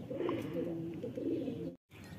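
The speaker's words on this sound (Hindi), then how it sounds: "अभी कबूतर खुल चुके हैं दोस्तों," Patiyala pigeons freshly released on a rooftop coo steadily in a soft, continuous murmur, close and fairly loud, with a brief silent gap near the end.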